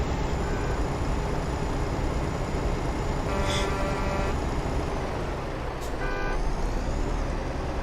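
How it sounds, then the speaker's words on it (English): Traffic in the American Truck Simulator game, with trucks and cars beeping and honking during a special transport haul of a helicopter, heard as a few brief tonal honks over a constant loud engine drone. "Oh my god, are they really beeping, honking like that?"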